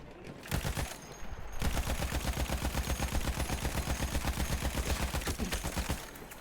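Rapid automatic gunfire in the World War I shooter Battlefield 1, a dense, loud, evenly spaced burst of shots lasting several seconds after a short opening volley, with no talk over it.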